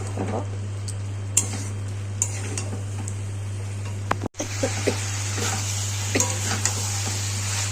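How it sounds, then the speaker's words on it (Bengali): A paste of tomato, onion, melon seed, ginger, garlic and coriander fries in a pan for a cauliflower and potato curry. Soft sizzling runs under light spatula stirring ticks, with a steady low hum in the background. "টমেটো, পেঁয়াজ, চালমগজ পেস্টটা আমি দিয়ে দিয়েছি। ভালো করে কষিয়ে নেব।"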